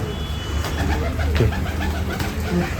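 Pigeons coo loudly and continuously at a pigeon festival in Nashik, a dense rolling murmur close by with faint traffic behind and no speech.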